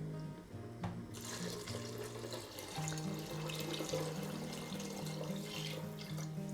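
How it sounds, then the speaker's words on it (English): Water runs steadily into a soup pot, a continuous splashing rush heard close up over a low background tune. "I'm gonna add 8 cups of water."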